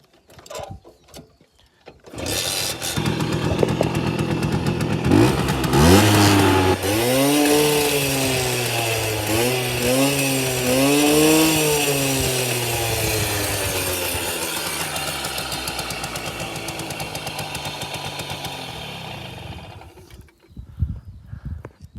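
A Simson S51 moped's two-stroke engine is revved up hard several times, loud and close, its pitch rising and falling in quick sweeps before settling to a steady high idle that cuts off near the end.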